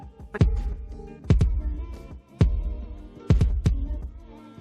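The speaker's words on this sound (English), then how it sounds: "Here's an example of a kick drum." A kick drum struck four times in a steady, slow pattern, each hit a deep, punchy low thump with a short decay, played alone.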